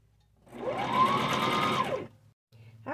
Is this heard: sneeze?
no